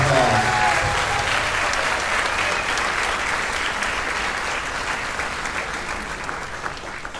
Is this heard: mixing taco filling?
no